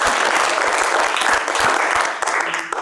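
Cabaret audience applauding at a fringe improv show, a dense, loud, steady wash of clapping that tapers off slightly at the end.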